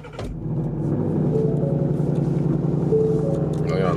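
A car engine idling on a cold morning, a steady low rumble and purr starting up after a brief thump, holding close and even throughout under faint background noise.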